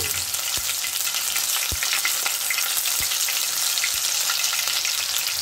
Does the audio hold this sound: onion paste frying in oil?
yes